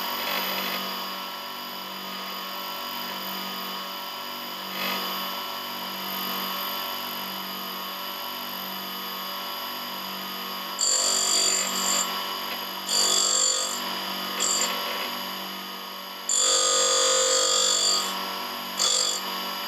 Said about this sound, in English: that's ready for grinding. And feed the tool in,